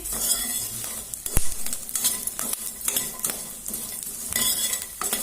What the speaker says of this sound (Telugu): చూడండి ఎట్లా వేగిపోతున్నాయో ఇవి